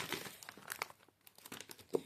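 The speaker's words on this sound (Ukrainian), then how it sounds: "Давайте спочатку розпакуємо цей пакетик." A plastic packet being torn open and unwrapped, with repeated close crinkling and crackling bursts in an uneven rhythm and a brief pause midway before a sharper final crackle.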